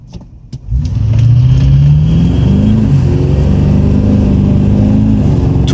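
An LB7 Duramax diesel pickup truck pulls away after a brief quiet moment, its engine rising into a loud, sustained low rumble that climbs steadily in pitch as it accelerates, heard up close with no talking.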